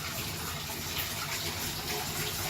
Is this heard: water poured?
yes